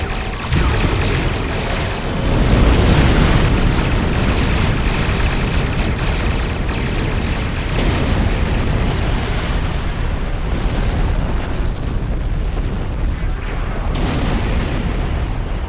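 Starship weapons fire and booming explosions from a space battle with Klingon attack ships in Star Trek Online, loud dense rumbling blasts layered continuously throughout.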